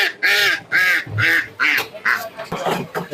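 Ducks quacking close by at a busy duck market where geese and ducks are sold, a run of repeated nasal calls in quick bursts, with voices of people talking faintly mixed in.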